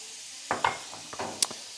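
Diced onion sizzling and being stirred in a pan while it caramelizes, with soft frying hiss and a few scraping, clinking utensil taps against the cookware.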